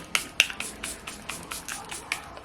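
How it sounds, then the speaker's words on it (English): Charlotte Tilbury setting spray misted close by in a run of about ten quick, crisp pump bursts with short even gaps, heard alone without talk. "we're gonna go in with our Charlotte Tilbury setting spray and spray that"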